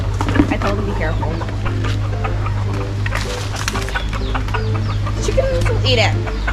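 Several chickens cluck busily nearby, with scattered higher calls over a constant low hum and a bit of background talk.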